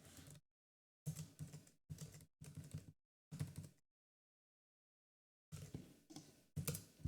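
Fingers typing on a computer keyboard during a coding session: short bursts of soft clustered key clicks separated by silent pauses, close and fairly quiet, with no voices.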